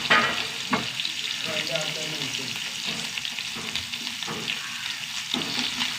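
Ingredients sautéing in hot oil, likely with dried fish, a continuous close sizzle with rhythmic scraping and clinking from stirring, no speech.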